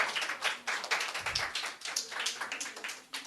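Clapping from an audience at a church gathering, a dense, steady patter of many hands that continues throughout the clip.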